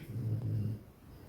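A dog named Archie snores indoors with one low, rumbling, drawn-out breath that fades into quiet room noise; no one speaks.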